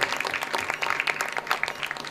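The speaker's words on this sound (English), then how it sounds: "Please give them a huge round of applause" Steady applause from an audience at a school Model United Nations grand finale, dense continuous clapping close by, filling the whole stretch without pause.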